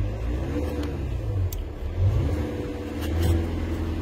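A car engine held at a steady raised rev, droning loudly and close up with slight swells in pitch.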